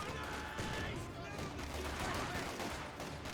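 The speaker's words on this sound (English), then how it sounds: "Rifle grenade firing." Rifle grenade fire in the WWII strategy game Company of Heroes 2, lost in a dense, continuous battle din of gunfire and explosions, heard through low-level game audio.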